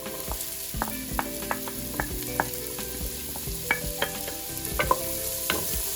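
Finely chopped onions with garlic fry in a pan for Filipino sweet spaghetti, a steady sizzle punctuated by repeated sharp taps and scrapes of a spatula stirring against the pan, with no talking.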